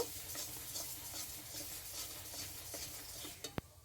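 Sugarcane jaggery being stirred in a pan for chirer moa, a soft continuous scraping and rubbing of a spoon against the pan, faint and steady, ending with a sharp tap.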